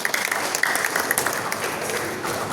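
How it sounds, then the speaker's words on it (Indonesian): An audience claps steadily at an Indonesian youth organization's Youth Pledge Day gathering, with dense, even applause filling the hall from start to finish with no voices above it. "Ilyas Indra, Ketua Majelis Pemuda Indonesia, tepuk tangan untuk beliau."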